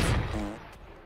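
A single gunshot in the Kung Fu Cowboy video game, a loud booming blast that decays over about half a second, alone and close.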